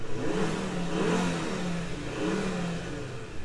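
A five-cylinder turbo car engine revs in two rising and falling surges, a deep, raspy rumble heard up close with no voices.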